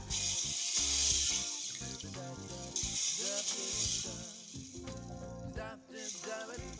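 Mung beans are rinsed in water, giving soft sloshing and rattling sounds. Background music with steady tones plays over the washing.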